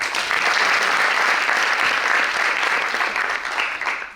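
Steady, dense audience applause fills the room at full strength, a continuous wash of many hands clapping that eases slightly near the end, with no talk over it.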